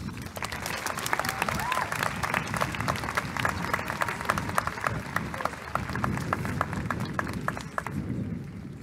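Steady applause from a crowd at a high school commencement ceremony, dense clapping filling the whole stretch before tapering off near the end.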